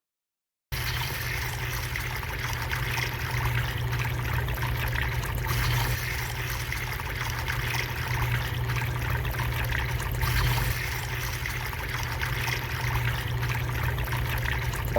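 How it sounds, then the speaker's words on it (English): Water pours steadily into a pyramid model in a fluid-dynamics demonstration, making an even, continuous trickling rush that starts abruptly and keeps going at a constant level with no talking. "now that the initial water filling process has been demonstrated"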